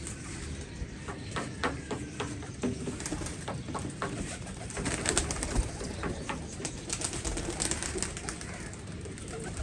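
Pigeons coo repeatedly at close range over a busy, noisy background, with a few faint bird calls and light clicks mixed in.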